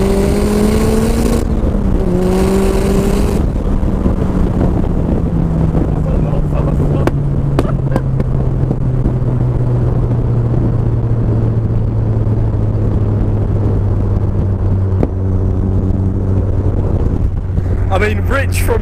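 An RX-5 250 demo car accelerating hard, its engine note climbing and then holding a loud, sustained drone heard from inside the cabin, with wind buffeting and a voice talking over it.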